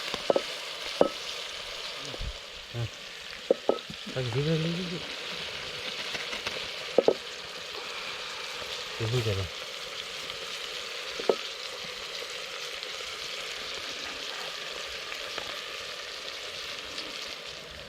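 Onions frying in a pan for a spicy goat head curry, giving a steady, moderate sizzle throughout with occasional clinks and stirring scrapes of a utensil.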